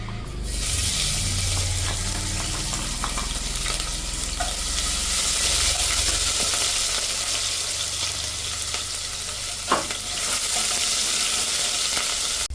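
Crushed ginger and garlic frying in sunflower oil for a mutton curry, a steady close sizzle running the whole time with light stirring scrapes and a brief clink near the end, no talking.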